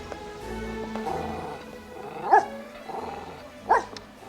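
A small dog gives a couple of sharp barks, one near the middle and another toward the end, over a quiet indoor background with faint tonal sounds.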